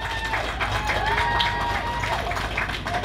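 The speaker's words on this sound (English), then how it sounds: "Let's give them a big round of applause." An audience applauds participants at a team event, a continuous wash of clapping and cheering from a crowd that stays steady for the full few seconds.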